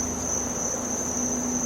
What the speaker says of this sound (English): or the silence of a cricket